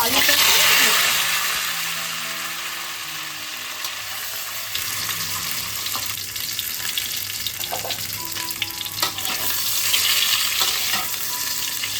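Boiled potatoes frying in hot mustard oil in a wok for aloo dum, a loud close sizzle that softens slightly, with spatula stirring and scraping throughout.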